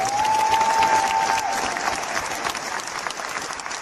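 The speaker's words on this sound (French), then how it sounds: "un tonnerre d'applaudissements pour la belle" Applause from a concert audience at a show in the Sacré-Cœur basilica, a dense steady clapping from a large crowd that holds strongly and tapers slightly, with a faint tone briefly over it at the start.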